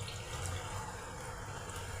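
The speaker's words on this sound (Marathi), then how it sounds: "त्यानंतर आपल्याला यामध्ये 1 ग्लास पाणी ओतून घ्यायचे आहे." A glass of water poured into paneer curry in a pan makes a continuous close splashing rush that stays even and fairly loud from start to finish.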